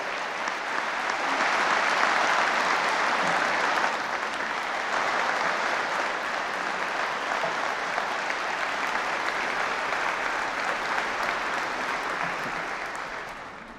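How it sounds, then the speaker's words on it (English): Sustained round of applause from the audience at the Kentucky State of the State address, dense, even clapping from a large crowd that swells early, holds for over ten seconds, then tapers off. "Let's give KSP, the Child Crime Task Force, and Brianna a big round of applause"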